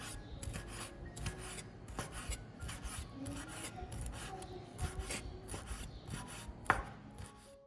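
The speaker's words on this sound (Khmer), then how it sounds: "ចំណែកឯបង្គាវិញក៏ត្រូវហាន់ជាចំណិតតូចៗដែរ" Knife chopping shrimp into small pieces on a board, a steady run of quiet, crisp repeated cuts close by with no talking.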